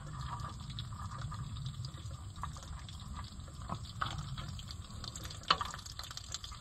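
Water drains out of an Oliver 1365 tractor with a steady trickling rush, broken by scattered drips and small splashes, with no talking.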